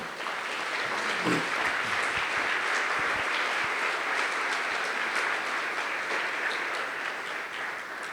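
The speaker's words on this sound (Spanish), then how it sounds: "Denle un gran aplauso a nuestro Rey, por favor." A church congregation at a Sunday service gives sustained, loud applause in a continuous crackling roar that holds steady for several seconds before easing slightly at the close.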